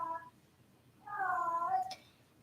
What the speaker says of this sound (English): My cat is being, she's loud right outside the door.